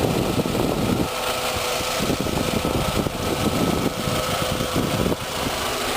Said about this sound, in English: it's got the 2-liter 4-cylinder engine